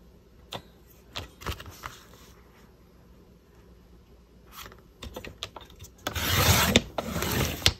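A sheet of cardstock is cut in half lengthwise: scattered crisp clicks and rubbing handling noises, then a louder sustained rasping slice near the end, close up with no talking.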